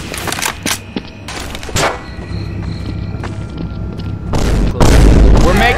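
Pipe bomb detonations in Left 4 Dead 2, a string of loud booms and thuds with gunfire-like bursts, ending in a heavy, sustained blast.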